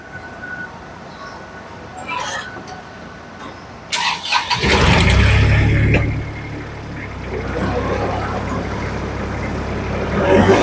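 An Iseki 433 Japanese combine harvester at a rice harvest cranks and starts partway through, then its engine runs loud and close with a steady, rough low rumble, after a quieter stretch of faint background noise.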